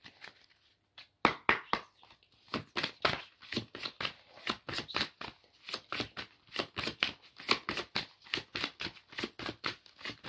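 Oracle cards are shuffled by hand for a card draw in a rapid, close run of crisp riffling bursts, repeating quickly and evenly after a brief quiet start.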